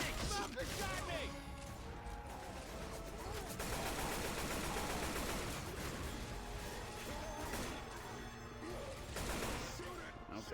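Bursts of rapid automatic gunfire mixed with crashes and impacts in the Left 4 Dead 2 video game, loud and nearly continuous, with voices talking over the shooting.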